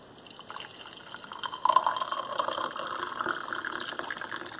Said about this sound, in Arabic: بناخد منه ملقة بنحطها هون ونحط فوقها الماء المغلي